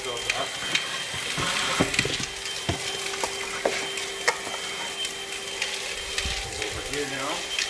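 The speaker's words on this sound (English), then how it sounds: "So we're using the cutter tool to pick up some of these loose screws from. See the suction and airflow easily picks those up." A Hoover ONEPWR Blade cordless vacuum, fitted with its crevice cutter tool, hums steadily while loose screws rattle and click sharply up the nozzle in quick irregular ticks.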